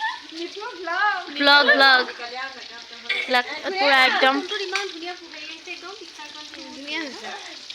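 Fish frying in a pan at a festive Bihu eve night gathering makes a continuous hissing sizzle running beneath close, lively conversation from several people.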